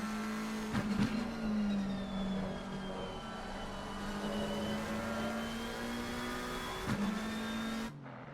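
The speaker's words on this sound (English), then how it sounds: "Look at that group of cars going down through turn number 7, Tosa." A pack of race cars at Imola's Tosa turn in a racing video game, their engines merging into one steady, droning roar with slight pitch sways and a couple of brief clunks.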